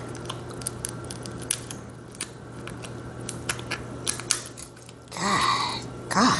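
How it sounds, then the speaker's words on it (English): Scissors snip through a king crab shell in a run of sharp, irregular clicks and crunches at close range, followed by a louder rustle and crackle near the end. "My scissors don't want to work right today."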